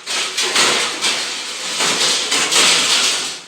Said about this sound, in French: Alors là, je vais déballer ça.